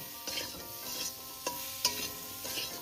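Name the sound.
potato and papaya frying and being stirred in a pan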